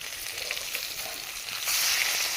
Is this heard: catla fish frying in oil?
yes